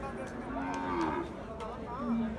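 A Sahiwal bull lows twice at a rural cattle market in Ambari, each moo deep and drawn out, over a steady bed of crowd and market noise.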